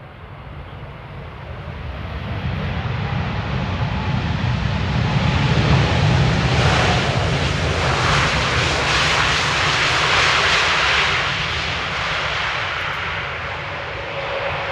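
Lufthansa A320neo airliner landing at Amsterdam airport in rain, a broad engine roar that swells over several seconds and then slowly fades, heard from a distance with rain-soft background noise.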